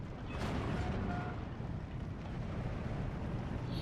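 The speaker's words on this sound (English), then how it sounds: "Ammo explosion." An ammunition explosion in the Steel Division 2 war game gives a dense, rumbling roar of detonation and debris. The broadband noise holds steady and loud for several seconds with no speech.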